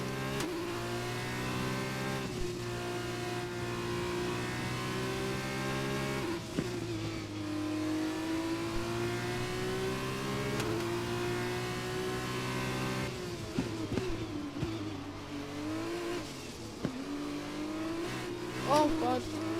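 Formula 1 car engine in the F1 2021 racing game drones steadily at moderate speed, its pitch rising and dipping as it is driven cautiously, with someone talking over it.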